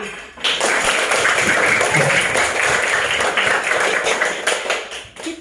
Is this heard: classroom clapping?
yes